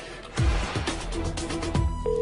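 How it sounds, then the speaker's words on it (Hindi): A telephone ringing indoors in a Hindi-language scene, repeated ring bursts at a steady moderate level with a low tonal beep near the end, with no talk. "फोन बज रहा है"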